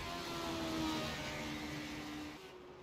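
A small race car runs laps on a track at a family racing night, its engine a steady buzzing drone that holds, then eases off near the end, heard from some distance without talk.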